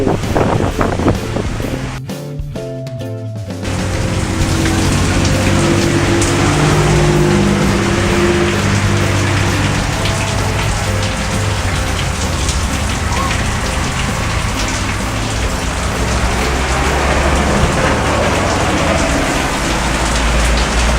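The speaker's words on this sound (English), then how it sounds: "it's still raining" Heavy Arizona monsoon rain pours down in a steady, loud hiss that barely changes, with a brief low rumble and crackle near the start.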